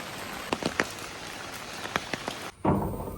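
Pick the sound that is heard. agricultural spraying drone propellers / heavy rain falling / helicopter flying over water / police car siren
heavy rain falling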